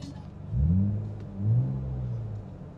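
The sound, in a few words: car engine revving through aftermarket exhaust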